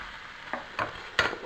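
Beans stirred through white chilli in a pan, three short scraping, clattering strokes spaced apart over a soft background hiss, close and fairly quiet.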